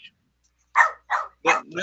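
A voice imitates a dog, giving three or four short, sharp barks in quick succession after a moment of silence.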